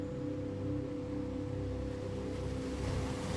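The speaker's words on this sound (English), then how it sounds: "As you listen to the gentle rhythm of the waves" Gentle ocean waves wash on a shore in a low, continuous rumble with soft swells rising and falling, heard alone without voices.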